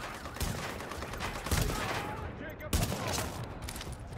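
Automatic gunfire in The Division, several loud bursts against standard red LMB enemies, with sharp reports near 0.4, 1.5 and 2.7 seconds over a dense, continuous game soundscape.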